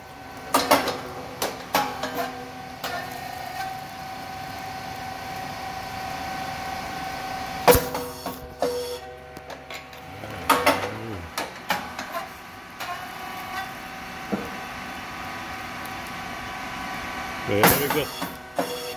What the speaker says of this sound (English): rice cake machine SYP8501